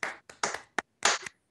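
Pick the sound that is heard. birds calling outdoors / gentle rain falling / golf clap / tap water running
golf clap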